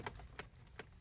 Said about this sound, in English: you hear the clips clicking off